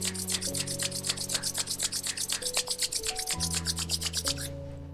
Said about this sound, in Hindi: हाथों को पाम्स को रब करेंगे।